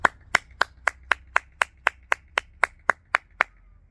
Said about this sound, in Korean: 박수 한번 치고 가겠습니다